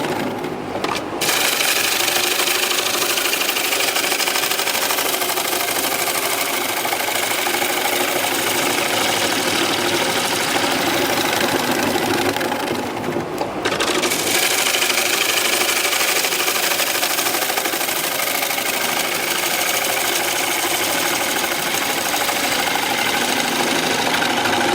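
Punky pine spinning on a wood lathe as a gouge cuts it, giving a steady, loud scraping rasp over the motor's hum that continues nearly unbroken, with one brief drop in the middle.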